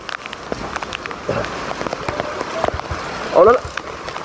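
Steady rain patters amid gusty, rushing noise from a monsoon storm, with a louder burst near the end; fairly close and continuous.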